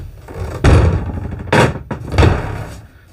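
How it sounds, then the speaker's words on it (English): A loud closet door slams shut inside a Jayco Seismic 395 fifth-wheel toy hauler RV, giving three heavy, close wooden thuds about a second apart in a quiet room. "Loud doors"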